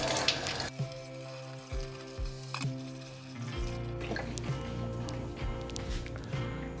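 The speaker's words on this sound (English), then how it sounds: "I'm going to give a rinse now" A coffee portafilter is rinsed under running water, giving a close rush of flowing water broken by several clunks and knocks of metal against the sink.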